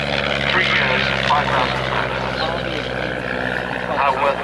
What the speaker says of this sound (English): That sound, by the way, comes from the Gypsy Major air-cooled four-cylinder inline engine.